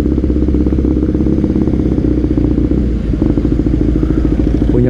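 A BMW R nineT motorcycle fitted with a Villan aftermarket exhaust idles close by, with a loud, steady, lumpy pulsing rumble and slight clatter continuing throughout, and no voices.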